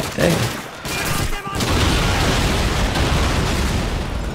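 Gunfire crackles in dense, continuous bursts, with grenade blasts booming through a battle in the Call of Duty 2 Soviet Winter War campaign. The noise is loud and sustained, with brief dips between volleys.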